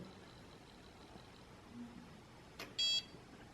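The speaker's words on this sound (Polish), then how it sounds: "było słychać sygnał dźwiękowy" Quiet room hum, then a short soft tone followed by a brief high electronic beep near the end from a WELOCK Touch41 electronic door lock on an exterior door.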